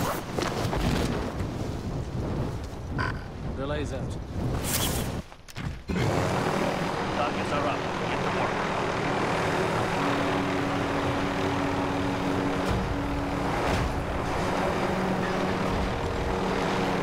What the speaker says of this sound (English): And then I'll get the helicopter.